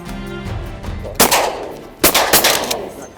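Shotguns fire during a waterfowl hunt in a cattail marsh on opening morning in Big Sky country, two loud close blasts a little under a second apart, each with a rolling echo.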